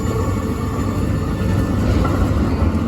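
A tram passes through the streets of Zurich, Switzerland, with a steady close rumble and rolling rail noise that swells slightly toward the end and holds for about three seconds.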